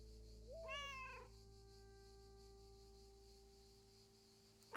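A single cat in the video game Lake gives a rising and falling meow, clear and fairly close, over a quiet steady background hum.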